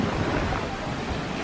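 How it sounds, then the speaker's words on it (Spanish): Ocean surf on Cocoa Beach, Florida, rumbles in a dense, continuous wash of breaking waves, loud and close, with wind buffeting the microphone and no voices. "Me pasaría el día entero aquí grabando todas estas olas increíbles."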